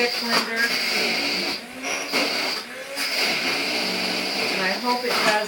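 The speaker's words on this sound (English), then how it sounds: "now I'm just going to use my stick blender, and we're going to make it into mustard." Stick blender whine while mustard is blended at home, a close, steady motor buzz with brief dips as the blade is moved, accompanied by someone speaking over the noise.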